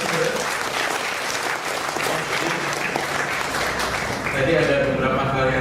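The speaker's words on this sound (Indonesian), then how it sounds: "kita berikan tepuk tangan dulu kepada para narasumber" An audience at an entrepreneurship workshop for university students claps for the speakers, sustained dense applause throughout that swells slightly toward the end.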